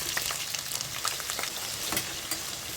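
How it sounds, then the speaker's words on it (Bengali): Potatoes fry in hot oil in a wok until they turn reddish. A loud, dense sizzle continues without a break, with crackling pops throughout. "কড়াইতে তেল গরম করে আমি আলুগুলোকে একটু লাল লাল করে ভেজে নেব।"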